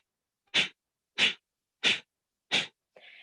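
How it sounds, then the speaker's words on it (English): Four short, forceful breath exhales from yoga breathing, evenly spaced about two-thirds of a second apart, close and sharp, each a crisp burst of air, then a faint brief sound at the end. "and then we create nice short exhales that sound like this."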